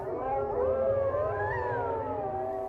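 A pack of wolves howling together in the wild, several long overlapping wails rising and falling in pitch, steady and fairly loud throughout with no talking.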